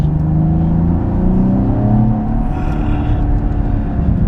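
A 2016 Cadillac ATS-V Coupe on a race track gives a loud, steady engine drone with a slight rise in pitch and a dense rumble, heard alone without talking.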